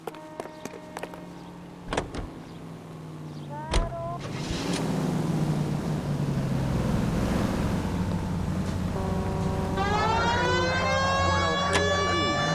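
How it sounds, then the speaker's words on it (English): Police car siren in the video game L.A. Noire, during a homicide case. It rises in a wail around four seconds in, then holds loud and steady near the end over continuous engine and road rumble. "We have a siren."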